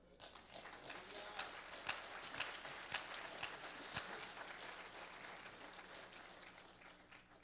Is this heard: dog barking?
no